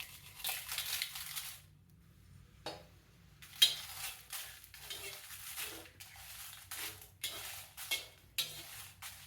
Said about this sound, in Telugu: కొంచెమేనండి నూనె వేస్తున్నాను ఎండుమిరపకాయలు వేస్తున్నాను